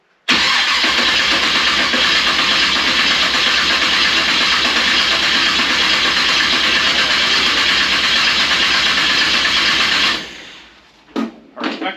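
The engine of an abandoned 1955 Chevy Nomad cranks over on the starter for about ten seconds, a loud, steady, rapidly pulsing churn that does not catch, then stops abruptly, leaving a few faint knocks.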